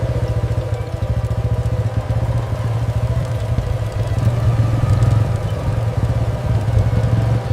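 A motorcycle runs nearby with a loud, rhythmic engine putter and mechanical clatter that continues steadily for several seconds with no talk.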